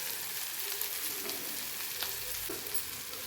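Turmeric, cumin and four green chillies sizzle in a pan of hot oil, a steady close crackle with a few faint stirring clicks and no voices.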